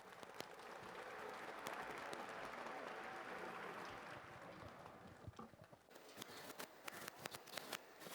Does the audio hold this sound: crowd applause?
yes